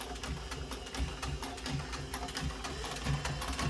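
A sewing machine stitches along the edge of a brown leather handle in brown thread, a rapid faint mechanical clatter of steady needle strokes running throughout.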